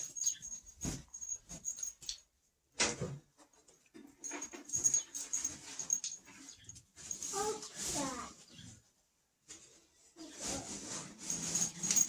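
A dog whimpers and whines in short, thin bursts near a gate during outdoor firewood chores, with people talking and background clatter between the sounds.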